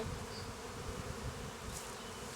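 A steady, low droning buzz of honey bees fills the air continuously, a dense hum with no voices.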